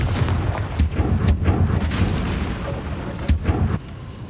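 Confringo explosive spell cast in a video game: a loud booming blast with crackling bursts and a few sharp cracks, then a rumbling tail that drops off near the end.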